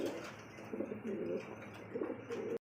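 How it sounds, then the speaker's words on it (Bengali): Jumbo-sized fancy Indonesian pigeons cooing in soft, repeated rounded bursts at close range, several overlapping coos rising and falling without any voices. "কি জাম্বু সাইজের কি শৌখিন কবুতর"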